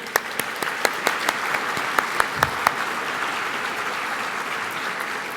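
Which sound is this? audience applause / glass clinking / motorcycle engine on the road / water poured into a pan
audience applause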